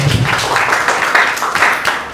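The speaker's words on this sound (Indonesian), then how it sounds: "Kasih tepuk tangan untuk" Audience applause for a speaker at a political and legal seminar on media conglomerates, a dense, loud wash of many hands clapping steadily throughout, with a brief low voice at the start.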